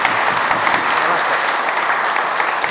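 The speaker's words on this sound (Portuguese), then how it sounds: "Vamos dar uma salva de palmas" Steady applause from a crowd at an outdoor church festival, dense and continuous clapping that fills the whole stretch without pause.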